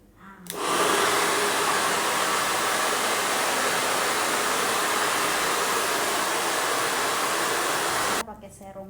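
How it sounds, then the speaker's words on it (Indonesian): A hair dryer blows steady, loud air across a hair extension being styled with a round brush, switching on abruptly and running continuously for about eight seconds before cutting off. "Kita pakai hair dryer ini dan kita pakai ini."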